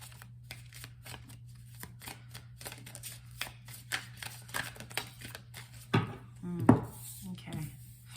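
Tarot cards are shuffled by hand in a series of soft, quick riffling and slapping bursts, with a couple of sharper card snaps near the end, over a steady low hum.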